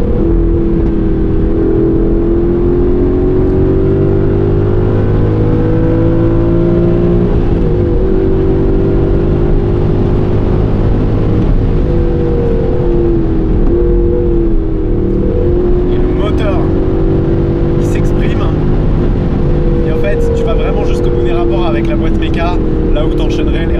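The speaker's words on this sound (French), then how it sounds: "Ils entendent une voiture qui fait des explosions arriver" A 2019 Aston Martin Vantage AMR with manual gearbox drones steadily and rises in pitch, with sharp crackling exhaust pops near the end; voices talk over it.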